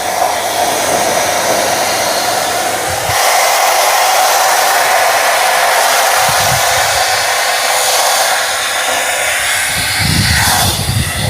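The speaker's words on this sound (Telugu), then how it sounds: "నేను హెయిర్ డ్రైయింగ్ అండ్ స్ట్రైట్నింగ్ చేసుకుంటాను" A handheld hair dryer blows steadily and loudly while hair is dried and straightened, a continuous airy roar with a few brief shifts in pitch as it is moved.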